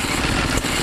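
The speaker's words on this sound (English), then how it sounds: "here's an old-time water pump running off a Briggs and Stratton" Old-time water pump driven by a Briggs and Stratton engine at an antique engine show, a brief burst of loud, dense mechanical chugging and clatter, close and steady.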